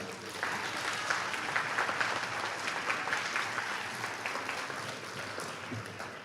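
Steady applause from a graduation crowd at a RICA ceremony, even and continuous throughout with no pause.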